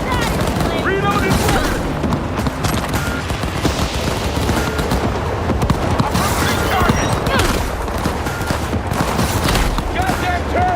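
Constant loud automatic gunfire and explosions fill a video game shootout against terrorists, with shouted voices mixed into the dense clatter.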